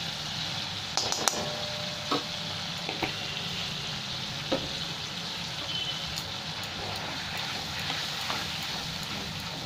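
Turmeric and red chili powder frying in oil in a pan for an eggplant korma, a steady close sizzle with occasional scraping stirs and small clinks throughout.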